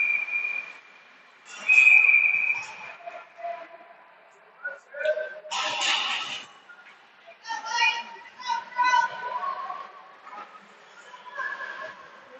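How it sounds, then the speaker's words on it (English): A referee's whistle shrills at a youth U14 ringette semi-final on an indoor rink, with a couple of sharp, slightly wavering blasts early on amid arena chatter and young voices. "one of the ref's whistles sounds a little bit wonky."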